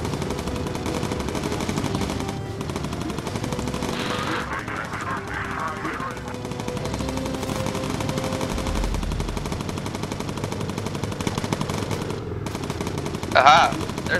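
Steady machine gun fire from a bomber in a video game chatters on without pause under a constant engine drone, with a few louder bursts near the end.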